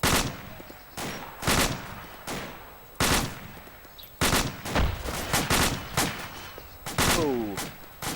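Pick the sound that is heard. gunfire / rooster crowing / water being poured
gunfire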